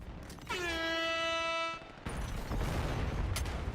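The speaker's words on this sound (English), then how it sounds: "He hits you with the air horn a couple times there" Air horn blaring in a video game esports match, one long harmonic blast lasting over a second, followed by loud game noise and crowd-like bursts.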